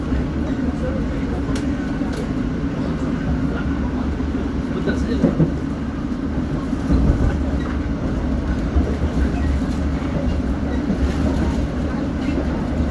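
The Argo Bromo Anggrek train runs through Cikampek station in Indonesia, rolling over rails and switches with a continuous low rumble and scattered clacks and knocks from the wheels, heard from inside the train.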